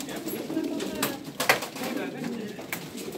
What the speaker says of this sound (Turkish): Bakınız kuşlar içeride hepsi.